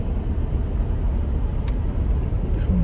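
Highway traffic near Perungalathur makes a steady, dense low rumble of passing vehicles that continues without a break throughout.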